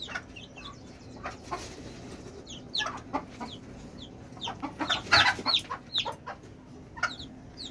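A mother hen clucks near her newly hatched chicks, which answer with repeated high, thin peeps. The sound is close, busy and continuous, with no one speaking.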